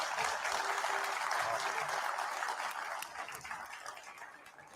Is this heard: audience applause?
yes